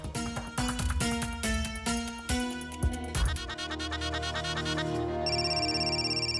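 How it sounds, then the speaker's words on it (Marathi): A phone's melodic ringtone plays during a Marathi TV serial scene, its bright repeating tones continuing for several seconds with no one speaking over it. "सत्य बघ, सत्य फोन आला"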